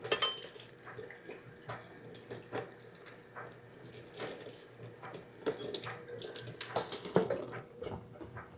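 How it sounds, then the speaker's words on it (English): Two oranges being rinsed under a running kitchen tap, a steady splashing flow into the sink with irregular louder splashes and knocks as the fruit is turned, fairly close and without talk. "let me wash off these oranges"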